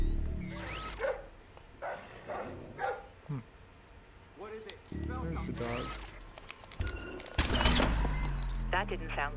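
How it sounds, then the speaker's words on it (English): A dog barks and yips in a room of the stealth video game Splinter Cell: Blacklist, several sharp barks spread across the scene over game ambience and talk. "This next room has a dog in it"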